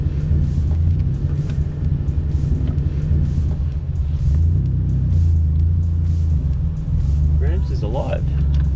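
Drag-race car built for eleven-second runs, its engine idling and rumbling low and steady throughout while pulling away in first gear, with people talking over the continuous drone.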